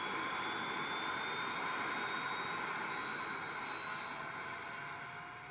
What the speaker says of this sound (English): that's the APU kicking in